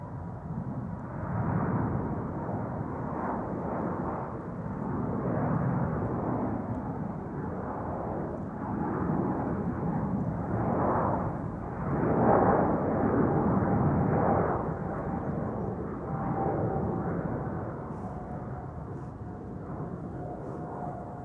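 A Singapore Airlines airliner takes off, a deep sustained jet roar rolling in broad waves and swelling at times before easing slightly, heard from a distance with no talk over it.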